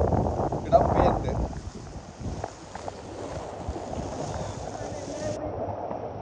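A boat moves through flood water as displaced residents leave their homes in Jaffna, with engine and water noise mixed with wind buffeting the microphone, a louder surge near the start, and voices talking over it.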